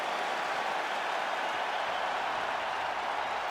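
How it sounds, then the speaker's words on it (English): A crowd at a UFC fight in the EA Sports UFC video game applauds after a round, producing a dense, steady wash of clapping and cheering that stays at an even level throughout. "the crowd voicing its appreciation after that round"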